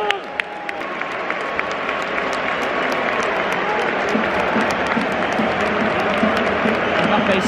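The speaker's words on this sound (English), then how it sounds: "Real Madrid fans are clapping" Real Madrid fans in a stadium during a Champions League match against PSG, sustained dense applause from a large crowd, steady and loud, with faint crowd noise underneath.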